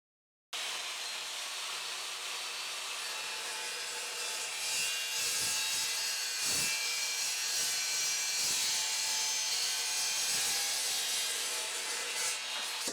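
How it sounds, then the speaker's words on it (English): An Evolution Rage 2 saw cutting metal, a steady loud whirring grind that starts abruptly and holds, with some rougher rasping toward the middle, close up and without speech. "You can then pull that down and then cut whatever metal you are cutting."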